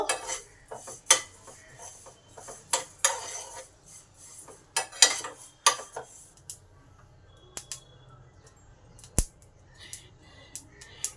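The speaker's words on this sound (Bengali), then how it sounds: "এই যে পটপট করে আওয়াজ হচ্ছে এটাতেই বুঝে নিতে হবে যে আমার মৌরিগুলো ভালোভাবে ভাজা হয়ে গেছে" Fennel and fenugreek seeds give sharp crackles and pops in irregular bursts as they fry in a hot pan, close and fairly loud, with a few scraping sounds.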